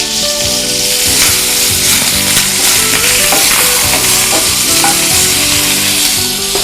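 Garlic and coriander frying in a hot pan, a steady loud sizzle with stirring scrapes throughout, no voices.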